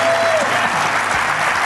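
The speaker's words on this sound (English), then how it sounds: "how about a round of applause? Can we hear it?" A live podcast audience at the KB4CON 2019 conference breaks into steady applause, a dense wash of clapping hands, fairly loud and unbroken, with a brief voice at the start.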